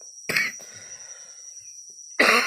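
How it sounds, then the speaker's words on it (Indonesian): A person coughs in two short bursts early on, then once more loudly near the end, close to the microphone in a quiet room during a repair of a Yamaha Vixion motorcycle part. "Maaf lagi batuk."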